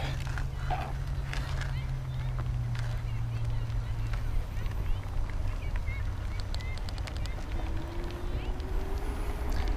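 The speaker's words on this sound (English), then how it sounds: "I will show you how the motor sounds" A Populo Scout electric bike motor on a test ride gives a steady low hum, then a thin whine that rises toward the end, heard under heavy wind rush.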